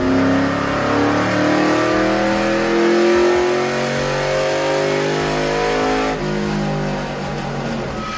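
A rough, lopey cammed Chevy SSR 5.3 engine idles and revs loudly up close, its choppy exhaust pulsing unevenly throughout with no voices.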